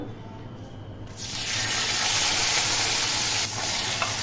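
Dried red chili and bay leaf hit hot mustard oil and ghee in a pan, bursting into a loud, steady sizzle after a second of quieter kitchen noise, with a soft clink near the end.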